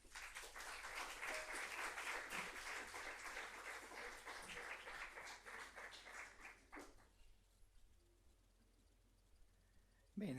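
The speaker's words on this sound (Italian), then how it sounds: "vi chiederei di accoglierlo con un applauso" Audience applause welcoming a speaker to the podium at a university lecture on art and museums, a dense steady clapping that fills the room for about seven seconds, then fades to quiet room tone.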